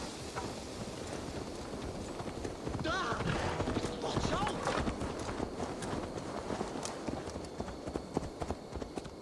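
Horse hooves clip-clopping at a walk in Assassin's Creed Valhalla, soft steady footfalls with game ambience and quieter background noise throughout.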